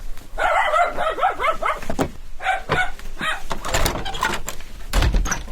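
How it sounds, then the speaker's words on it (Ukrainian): A chained dog barks repeatedly in short, sharp bursts close by, at a village school, with some thuds and clatter in between. "Замість дзвінка пес на ланцюгу"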